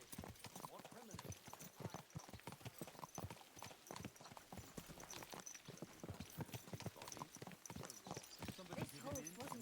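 Horse hooves clip-clop steadily in Kingdom Come Deliverance 2, a quick, even rhythm of close, clear hoofbeats running throughout while a voice talks over them.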